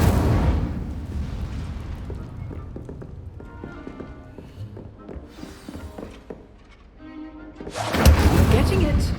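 An Incendio fire spell cast in Hogwarts Legacy gives a loud closing burst of broadband whooshing flame that follows a stretch of mid-level game sounds with bright, ringing tonal effects.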